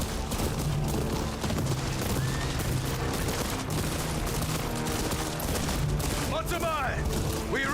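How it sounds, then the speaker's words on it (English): A volley of gunfire rolls through a battle in the samurai video game Ghost of Yotei. Dense, loud cracks and booms overlap without pause, horses whinny near the end, and voices speak underneath. "We may be riding into a storm of gunfire."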